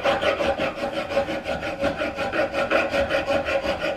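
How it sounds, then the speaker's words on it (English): Hand file rasping burrs off a metal arbor press after its teeth were ground off, a close, steady back-and-forth scraping in quick regular strokes, about four per second, with no talk. "Now I'm just taking a file and cleaning this up a little bit."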